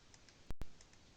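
A computer mouse gives two quick, close clicks in a quiet room during photo editing to remove unwanted objects.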